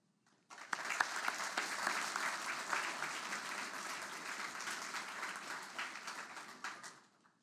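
An audience at an Army graduation ceremony breaks into steady, full applause for guest speaker Sergeant Major Wade, starting abruptly, holding at an even level for about six seconds, then fading out.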